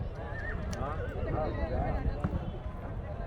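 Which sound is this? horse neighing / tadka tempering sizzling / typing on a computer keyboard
horse neighing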